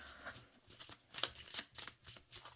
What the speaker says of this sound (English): So the overhand shuffle is nice.